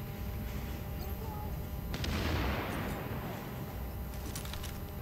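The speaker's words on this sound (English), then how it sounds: "Oh, they're throwing frags." In the video game The Division, frag grenades burst in a mid-clip explosion, one heavy blast rising out of ongoing gunfire and a low rumbling backdrop.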